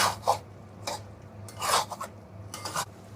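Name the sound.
chicken being stir-fried in mustard oil for curry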